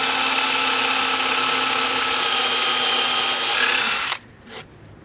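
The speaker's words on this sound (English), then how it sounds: "use a regular 8-inch drill bit to drill you a pilot hole" A power drill with an 8-inch bit whirs steadily and loudly for about four seconds drilling a pilot hole into a 1x4 board, then winds down and stops, leaving a brief quieter rustle.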